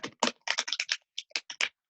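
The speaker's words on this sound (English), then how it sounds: "I'm going to shuffle the cards" Playing cards being riffle-shuffled by a magician, giving a rapid series of sharp, crisp clicking bursts close by, each flurry a fraction of a second long with brief gaps between, and no voices.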